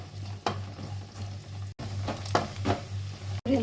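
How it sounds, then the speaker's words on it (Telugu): Onions fry in a pan until brown, a steady close sizzle with several scraping stirs and brief clatters of a spoon, no talk. "ఎర్రగడ్డ కూడా కొద్దిగా బ్రౌన్గా వచ్చే వరకు ఫ్రై చేసుకుందాము."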